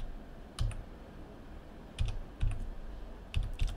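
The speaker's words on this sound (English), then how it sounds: "I'm typing the entire amount here" Several quiet clicks from a computer keyboard come in small scattered bursts, close and faint, with pauses between the keystrokes.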